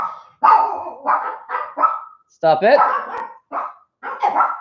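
A dog barks repeatedly in short, sharp bursts at someone walking their dog, fairly close and loud, with a person briefly speaking between the barks.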